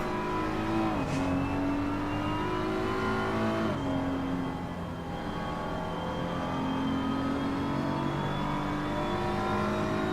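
BMW and McLaren GT3 race cars in the Assetto Corsa Competizione sim racing game at Barcelona: loud, continuous engine whine that climbs through the revs, drops at gear shifts and climbs again, with no voices over it.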